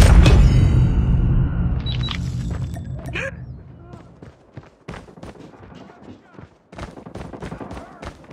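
A frag grenade explodes in a Call of Duty match, opening with a loud, heavy boom that rumbles away, followed by scattered gunfire and footsteps with game voice callouts.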